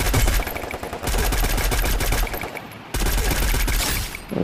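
Rapid bursts of gunfire from the Free Fire battle royale game, with dense automatic fire running almost continuously and breaking off briefly twice before resuming, loud and close.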